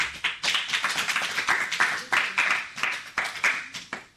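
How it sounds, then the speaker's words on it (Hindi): An audience at a school children's program in Bikaner claps loudly and steadily, individual hand claps standing out in an uneven rhythm over a continuous applause wash. "तो आइए फिर से एक बार जोरदार तालियां हो जाएं।"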